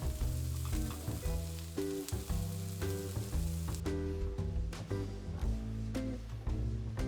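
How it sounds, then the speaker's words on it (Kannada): Onions and green chillies sautéing in a pan until reddish-brown, a steady close sizzle with light stirring throughout, over tonal background music. "ಈರುಳ್ಳಿ ಚೆನ್ನಾಗಿ ಕೆಂಪಾಗೋವರೆಗೂ ಇದನ್ನು ಬಾಡಿಸ್ಕೊಳ್ಳೋಣ"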